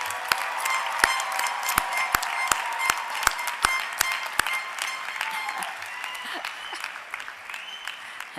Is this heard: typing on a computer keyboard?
no